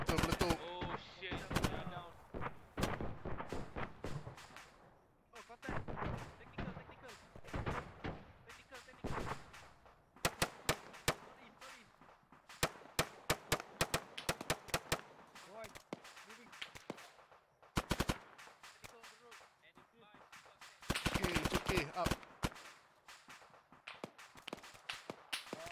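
Bursts of automatic gunfire and single shots from a military shooter video game, loud and close, in dense volleys separated by brief gaps, with players talking over the action.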